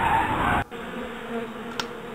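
Bees buzz in a steady, droning swarm in the Mata Nui Online Game. The buzz is louder at first, then drops to a lower, continuous hum.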